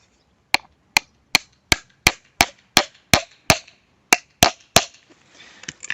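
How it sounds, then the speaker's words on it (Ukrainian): Sharp metallic hammer strikes peening a scythe blade on an anvil, about eleven evenly spaced taps in a steady rhythm, close and clear, with faint rustling afterward. "Потім цим молоточком відбивається коса."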